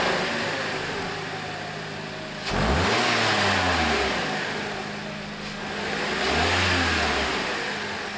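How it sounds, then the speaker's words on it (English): A Toyota Corolla engine runs steadily at idle, with two swelling revs that rise and fall in pitch a few seconds apart. "This is the engine started."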